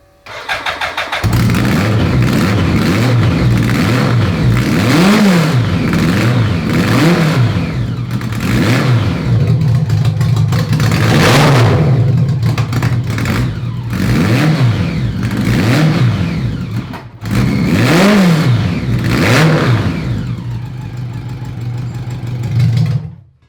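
A 1000cc mini trophy truck engine revs repeatedly through a muffler during exhaust testing, loud and close, with rising and falling blips over a steady idle and no talk.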